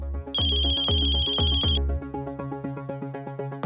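A phone ringtone rings loud and close, with a bright repeating melodic tone in several bursts, then carries on as a quicker pattern of plucked notes with no voices over it.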